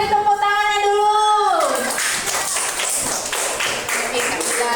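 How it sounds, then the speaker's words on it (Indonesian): Classroom pupils clap together after the teacher's prompt, a dense burst of hand claps starting just after her speech and continuing loud and close to the end. "silahkan beri tepuk tangannya dulu"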